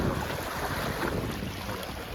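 Steady rushing wind buffets the microphone over the wash of sea water and waves, a constant roar with no voices.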